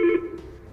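Telephone dialing tones on a VoIP PBX extension, with a brief loud tone at the start that fades quickly into a quieter, lingering hum.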